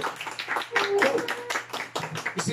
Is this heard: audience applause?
yes